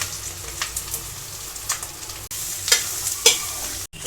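Chopped onions and green chillies fry in a hot pan, giving a continuous close sizzle broken by repeated scrapes and clinks of a stirring spoon, with no speech.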